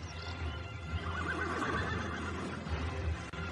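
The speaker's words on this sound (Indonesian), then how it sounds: "Suara ringgik kuda di belakang rumah itu." A horse neighs behind a house, a drawn-out whinny rising and falling over a low steady background rumble, moderately close, with faint hoof-like knocks near the end and no one speaking.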